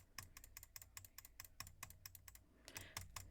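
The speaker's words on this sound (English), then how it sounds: "I'm clicking the mouse so fast." A computer mouse is clicked very fast, a rapid run of sharp, close clicks in quick bursts that keep going through a short pause, with no talking.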